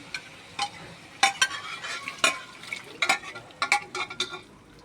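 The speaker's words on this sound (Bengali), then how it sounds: "এখন আম্মু দিয়ে দিবে আমাদের সিদ্ধ করে রাখা বুটের ডাল" A spoon scrapes and stirs goat meat with boiled chana dal and its stock in a pot, giving irregular clattering knocks against the pot over a soft background, close and alone with no talk.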